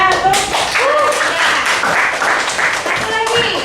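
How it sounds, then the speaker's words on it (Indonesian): Students applauding in a civics classroom, quick, scattered hand claps running throughout beneath overlapping voices and chatter. "Tuh, tepuk tangan tuh."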